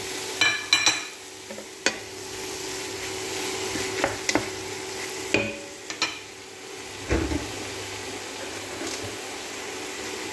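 Shrimp fry and sizzle in a pan on the stove, with a steady background hiss broken by occasional scrapes and clicks as they are stirred.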